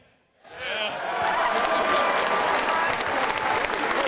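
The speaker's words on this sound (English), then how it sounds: "Fans, please give one more round of applause for your Wofford Terriers football team, the 2017 Southern Conference Champions." Football fans cheer and applaud their Wofford Terriers, the 2017 Southern Conference champions, at the trophy presentation: after a brief quiet moment a big crowd bursts into loud, sustained clapping and cheering.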